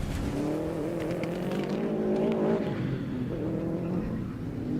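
Rallycross cars racing at Pembrey during a 2016 BTRDA championship round, engines roaring steadily on the gravel section, loud and fairly close with rising and falling revs and gritty tire noise.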